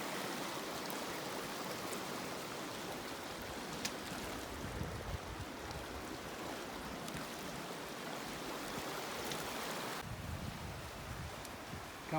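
The Sheep River flows in Southern Kananaskis during a spring hike, a steady, broad rushing wash of water that runs for the whole stretch without a break and has no voices over it.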